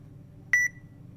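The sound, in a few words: phone app beeping while scanning a product barcode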